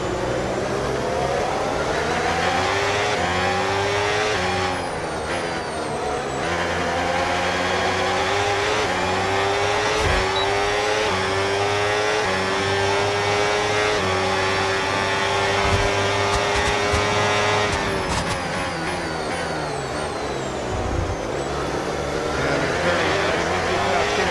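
Formula 1 race cars in the F1 26 game scream around the Hungaroring while overtaking, their high engine notes rising and falling through gear changes, loud and continuous, with a second car's whine passing close by.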